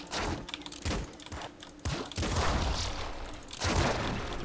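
Grenade rifle fire in the top-down shooter Nuclear Throne: several sharp bursts and thumps arrive in quick irregular succession over continuous game noise, loud and close, with no talking.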